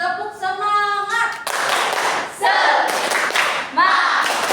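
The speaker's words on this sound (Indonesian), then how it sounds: "Tepuk semangat." A classroom does a rhythmic spirit clap during a microteaching lesson, with bursts of patterned clapping mixed with children's voices chanting along and a teacher speaking at the start.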